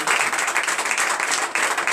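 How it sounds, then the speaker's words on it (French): Lively applause from a church congregation at a morning prayer service, thick with fast rhythmic clapping that swells in waves over two seconds. "Donnez encore de vives acclamations"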